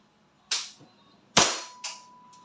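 WE 1911 MEU airsoft pistol fires, three sharp snapping cracks in quick succession, close and loud against a quiet background.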